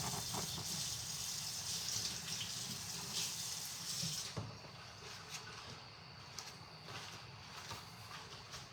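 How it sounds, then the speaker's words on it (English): A kitchen tap runs in a steady broadband gush while a knife is rinsed under it after cutting shallots and garlic; the flow cuts off around four seconds, leaving quieter room noise with faint small clinks. "I'm gonna go wash my knife off."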